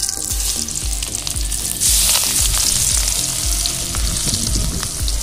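Oil sizzling loudly in a frying pan, a dense continuous crackle heard close up, swelling slightly about a third of the way in, with stirring noises mixed in and no talking.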